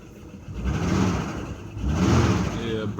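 A Jeep Grand Cherokee engine runs roughly, still burning off brake cleaner, with an uneven, surging mid-pitched rumble that swells and dips over a few seconds nearby.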